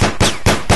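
Four sharp, loud pistol shots ring out at a steady rhythm in the video game Sir, You Are Being Hunted, each a punchy crack with a short decaying tail, close and dominant with no talking.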